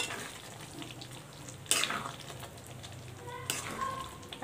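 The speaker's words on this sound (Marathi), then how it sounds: "आणि याला परत 1 ते 2 मिनटं छान इथे परतून घेऊया" Stuffed bitter gourd sautéing in oil in a pan with amchur powder, a soft steady sizzle with two louder stirring scrapes partway through, close and fairly quiet.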